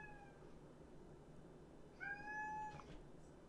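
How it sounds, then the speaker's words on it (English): A house cat meows twice in a kitchen, first a short faint cry and then a louder, drawn-out meow, heard alone with no talking. "If the cat's not meowing, it's not a podcast."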